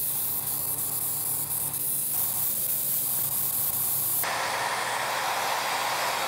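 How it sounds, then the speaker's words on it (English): An airbrush sprays Tamiya white primer over a large prop Lego sword and shield, a continuous close hiss that grows brighter and louder about two-thirds of the way through, with no talking. "Got some Tamiya here, my airbrush, and I just cover everything."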